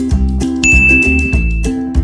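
A bright notification bell ding rings once over a steady musical backing, a clear sustained chime tone standing out for about a second.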